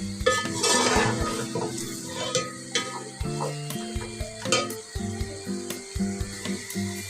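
Masala fried with added curd being stirred in a pan, with repeated scraping and clinking of a utensil against metal, close and fairly loud, the rhythm uneven with short pauses.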